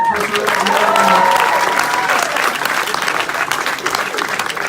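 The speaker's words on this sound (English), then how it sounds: "Ladies and gentlemen, big round of applause" Audience applause at a comic convention stage battle event, a dense loud clapping crowd with voices and cheers mixed in early on, tapering slightly toward the end.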